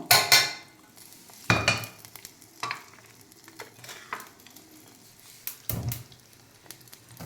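Onions and tomatoes fry in oil in a pan for Telugu gongura chutney, a soft sizzle under repeated scraping and clinking stirs of a metal spoon against the pan, close and intermittent.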